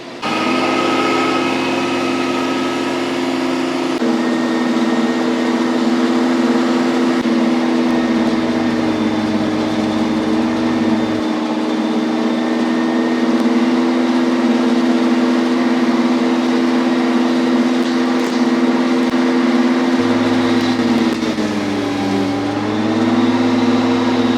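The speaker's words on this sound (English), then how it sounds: "I'm gonna make 4 passes with the Ferris." Ferris ISX3300 and Kubota zero-turn mowers mowing, a loud steady engine drone with a small pitch dip near the end, close and continuous.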